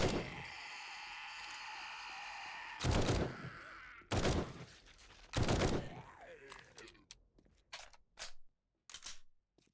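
Bursts of gunfire from the zombie survival game 7 Days to Die, three loud broadband volleys followed by a scatter of shorter, sharper shots, set against a steady whirring background.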